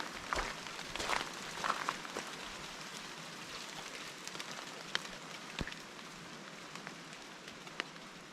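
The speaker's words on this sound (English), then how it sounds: "Sound of the rain." Rain falls steadily in a rainforest on a backpacking hike, a soft continuous patter with scattered nearer drips and drops, fairly quiet, with no talking.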